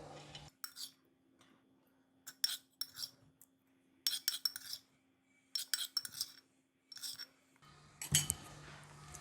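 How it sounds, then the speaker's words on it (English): Freshly steamed mussels are ladled into a serving bowl, their shells clattering and clinking against the dish and utensil in short, close bursts with quiet gaps between them. No one speaks. "Now I'm going to put it in the serving bowl."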